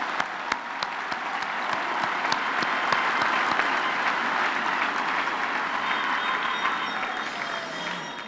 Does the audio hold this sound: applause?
yes